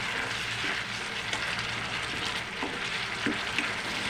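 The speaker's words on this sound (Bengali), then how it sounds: "আমি আবার একটু নাড়াচাড়া করে দিলাম" Small chanda fish frying in oil in a pan, a steady close sizzle with occasional soft scraping knocks as the pieces are stirred, no voices.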